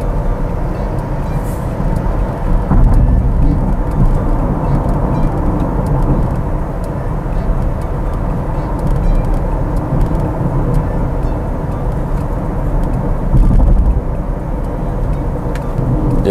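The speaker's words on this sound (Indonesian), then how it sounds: "sekarang saya akan ngebut sedikit ya. Kita tarik sampai di 60 km." A Wuling Binguo car accelerating toward 60 km/h gives a steady, loud drone of engine, tyre and road noise that holds at an even level throughout, with no speech over it.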